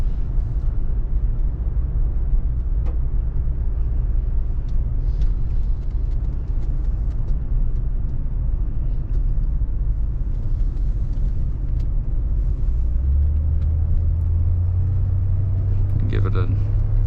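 A 1981 Cadillac Eldorado drives and accelerates smoothly, a steady low engine rumble and road noise heard from inside a quiet cabin, with the engine note rising near the end.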